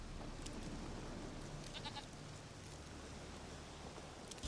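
A goat bleats in a video game, short bleats heard faintly over a steady background hiss, with no talking.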